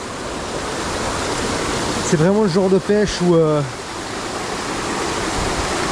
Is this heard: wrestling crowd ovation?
no